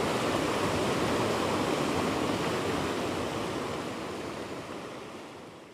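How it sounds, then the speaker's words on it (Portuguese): Strong water pours steadily over a small dam on a creek in Milagres, Ceará, swollen after rain, making a loud continuous roaring rush that fades slightly toward the end. "E a água que está forte, já aumentou aqui mais."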